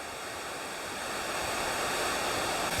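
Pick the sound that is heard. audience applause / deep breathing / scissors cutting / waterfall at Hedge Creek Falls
waterfall at Hedge Creek Falls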